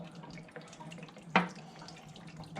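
Liquid poured into a small tray for soaking Lee Enfield .308 rifle parts, a single brief splashing pour that stands out over a quiet background.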